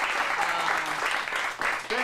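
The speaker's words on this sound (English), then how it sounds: "let's give a round of applause for our tech back there" A crowd at an adult acting studio script showcase applauds the tech crew, dense clapping running steadily for two seconds and close by.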